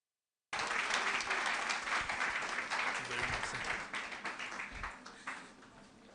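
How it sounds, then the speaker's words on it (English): Audience applause at an economic conference, starting abruptly and holding as a thick wash of clapping, thinning slightly toward the end, with faint voices mixed in. "give a round of applause for our amiable Mr. Raf Ayua"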